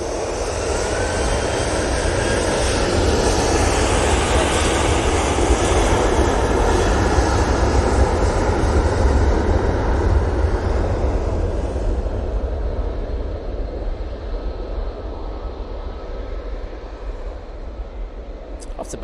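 An airliner touching down on the runway at Manchester Airport, a loud broad engine and reverse-thrust roar that holds steady, then gradually eases off, with someone talking over it.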